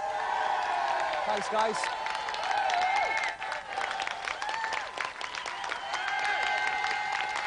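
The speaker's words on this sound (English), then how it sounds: "Let's have another round of applause then for Paul Davis and Dave Goodyear" A television game show studio audience applauds and cheers, a sustained wash of clapping with whoops, while a presenter speaks briefly over it.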